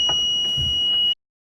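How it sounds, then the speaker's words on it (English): A boat's bilge alarm sounds a steady, loud, high-pitched electronic tone for about a second before cutting off abruptly into silence. "The bilge alarm is going off again, but there isn't water in the bilge."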